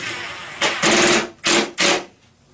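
A power driver sets a pan head screw into a clip during kitchen cabinet assembly, with three short whirring bursts in quick succession, close and fairly loud.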